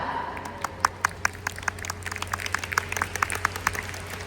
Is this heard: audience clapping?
yes